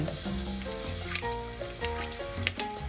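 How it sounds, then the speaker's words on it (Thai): Garlic frying in a little oil in a pot for a Thai cabbage and minced pork soup, a steady close sizzle with occasional stirring scrapes and utensil taps, no talking. "ยายจะาใส่น้ำมันลงไปนิดนึงเนาะ เจียวกระเทียมก่อนเลยนะคะ"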